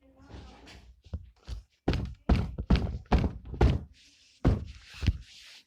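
Hand slapping and thumping on a tablet screen in frustration during a Geometry Dash game: a rapid run of loud, close thuds and knocks, with brief talk at the start.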